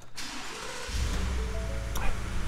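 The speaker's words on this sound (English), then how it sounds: "Let's go ahead and start this vehicle up." A 2018 Ford F-150 Crew Cab XLT 4x4 with about 32,500 miles starts up: a short starter crank, then the engine catches and settles into a steady, close low rumble at idle.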